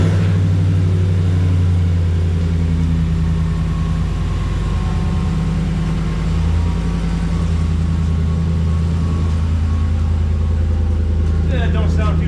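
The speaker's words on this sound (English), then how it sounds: "Got the first fire up with the new exhaust on it." GMC Sierra truck engine running right after its first start with a new exhaust, a loud steady low rumble idling throughout with slight swells.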